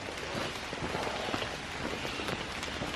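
Steady rain falls on the Appalachian Trail near Rod Hollow Shelter, a dense, even patter of drops on surfaces, close and continuous.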